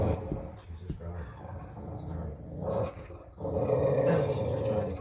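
A female pit bull growls low and rumbling in continuous waves for several seconds, close by, with some scuffling and voices mixed in.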